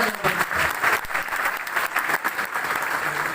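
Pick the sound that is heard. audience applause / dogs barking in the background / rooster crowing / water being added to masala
audience applause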